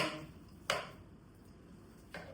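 Knife on a cutting board in a home kitchen, chopping onion small: two sharp, isolated chops about a second and a half apart, close and fairly quiet against a hushed background.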